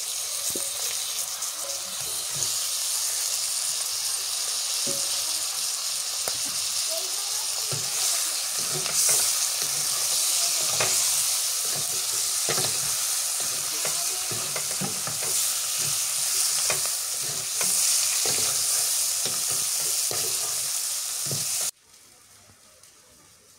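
Mirka fish frying with turmeric in a pan in a village kitchen, a continuous bright sizzle with occasional stirring clatter, steady for over twenty seconds before cutting abruptly to quiet.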